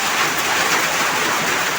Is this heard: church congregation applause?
no